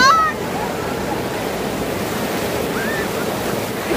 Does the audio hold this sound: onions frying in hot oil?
no